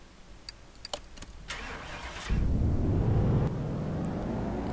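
In Car Mechanic Simulator 2018, a Plymouth car on the dyno is started after a few short mechanical clicks, and its engine catches with a sudden loud roar, then settles into a strong, steady run fitted with louder exhaust pieces.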